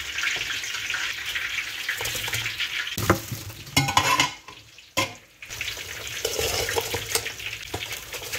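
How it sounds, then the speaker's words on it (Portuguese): Battered, peppered shrimp snacks fry in oil with a steady close sizzle, broken by stirring clatter, a brief pause and splashy bursts of running water. "agora pra fritar eu tenho o camarão capotado e apimentado"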